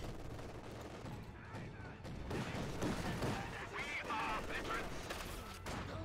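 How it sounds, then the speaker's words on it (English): Mortar and small-arms fire in a Company of Heroes 2 battle, with repeated dull launches and crackling shots across a steady battlefield din, moderately loud and continuous. "Mortar firing down."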